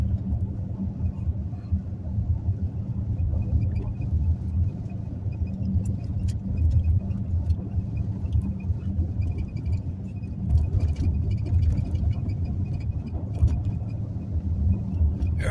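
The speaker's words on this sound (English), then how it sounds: "Now, why would he be driving a Camaro on a rocky road like this?" A Camaro drives along a rocky back road in winter, giving a continuous low rumble with a sustained engine hum and scattered faint crunches and patters from stones under the tires, steady throughout with no talking.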